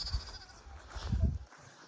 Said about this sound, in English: Look at the baby sheep! See! Look at them!